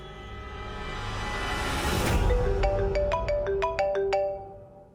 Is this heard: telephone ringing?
yes